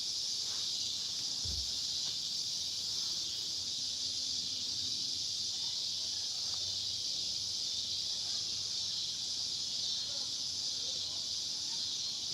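Cicadas buzz in a dense, unbroken high-pitched drone that holds steady throughout, with one brief low thump early on.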